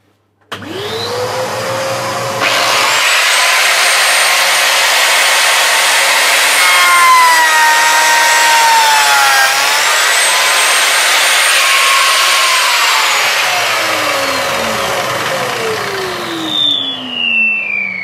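Biscuit joiner (flat dowel router) spinning up and plunging a slot into a wooden board, a loud steady high-pitched motor whine with rising and falling pitch as the cutter bites, then winding down at the end, no talking.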